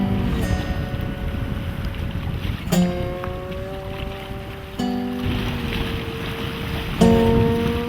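Wind and waves on Sturgeon Lake: a steady rushing wash of water and wind gusts, close and continuous, with faint tonal ringing tones drifting through at intervals.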